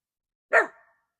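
A golden retriever lets out one sharp, close bark at a perceived outside threat, brief and alone against silence.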